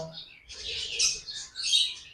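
Sharp, high chirps and squawks from small blue yellow-sided conure parrots, a few bursts in quick succession close by.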